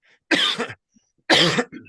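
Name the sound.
cough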